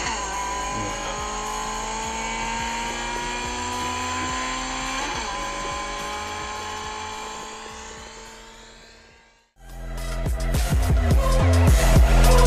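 A BMW 320ci E46 with a straight-pipe stainless exhaust revving hard, a loud sustained climbing engine note that fades out, then after a brief gap a rough, loud burst of engine noise returns, with no talk.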